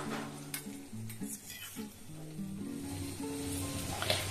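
Veg paneer burger tikki patties frying in a pan, a steady close sizzle with a few clinks of utensils against the pan over a faint tonal background.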